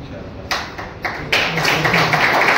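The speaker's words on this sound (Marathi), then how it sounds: "जोरदार टाळ्या." A handful of people clap at a Bajaj showroom during delivery of a Freedom CNG bike, scattered claps that build into fuller applause, with talk mixed in.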